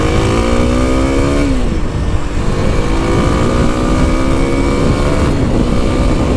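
A 2021 Kawasaki KLX300 dual sport motorcycle weaves through traffic, its engine loud and near, rising in pitch through the gears with a drop at each shift, over constant wind rush.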